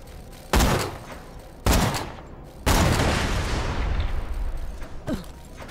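Gunfire aimed at a turret in Borderlands: The Pre-Sequel, three loud separate bursts of shots about a second apart, each trailing into a rumbling decay, followed by a sustained rattling barrage.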